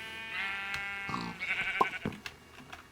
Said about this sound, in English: One sheep's trying to get away.